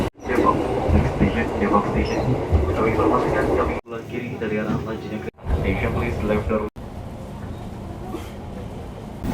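A Jakarta KRL Commuter Line train nearing Bogor station makes a steady, loud cabin rumble and roar, broken by a few abrupt cuts and a brief quieter stretch.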